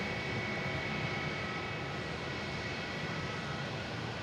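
A steady, broadband engine roar from an airliner arriving on runway 22 left at Boston Logan, continuous and fairly distant with no voices.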